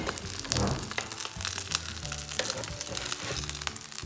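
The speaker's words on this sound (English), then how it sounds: "we have to wait for the pancake to be crisping up before we flip it" A Korean savory pancake crisps in an oiled pan with a steady, close sizzle and light popping, heard alone for a few seconds.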